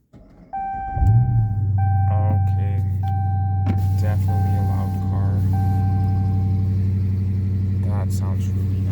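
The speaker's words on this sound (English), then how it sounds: "let's start the car up" A Dodge Charger Daytona cranks briefly and fires into a steady, deep idle that holds on, with chimes and a person's voice heard over the engine rumble.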